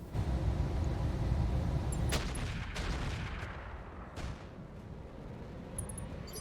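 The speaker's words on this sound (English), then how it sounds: "we are going to drop artillery on this Stalker" Artillery strike in the mech video game RogueTech, a series of heavy booming impacts and rumbling blasts with sharp cracks near two and four seconds, loud and close over a dense low roar that slowly fades.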